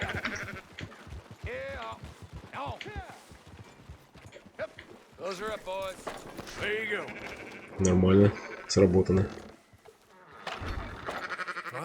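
Sheep bleat in several wavering calls under people talking in a Red Dead Redemption 2 game scene, with a couple of louder, buzzier bleats near the end.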